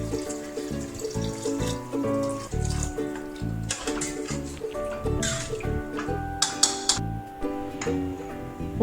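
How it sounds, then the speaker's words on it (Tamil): Water poured into a pan of minced meat kothu kari curry, a near splashing, gurgling stream with intermittent drips and sloshes over several seconds, no talk. "இப்போ தேவையான அளவு தண்ணி ஊற்றிக்கலாம்."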